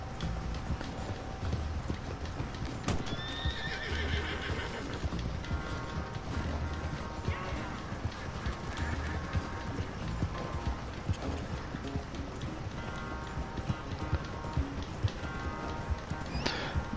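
A racing horse gallops in Red Dead Redemption 2 with steady rhythmic hoofbeats throughout, joined by a brief neigh early on, over a continuous game soundscape.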